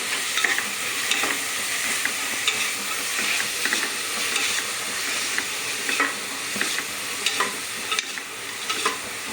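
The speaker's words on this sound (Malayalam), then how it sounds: "ഇഞ്ചി വെളുത്തുള്ളി പേസ്റ്റ് ഇട്ട് കൊടുക്കാം" Crushed ginger-garlic paste frying in hot oil in a pan for chicken mappas: a steady, close sizzle throughout, with frequent scraping strokes of a stirring spoon and no talking.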